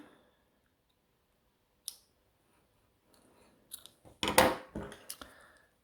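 Scissors snip through yarn during crochet work: a lone sharp click, then a cluster of crisp cutting snaps and clicks close up near the end, with quiet gaps between.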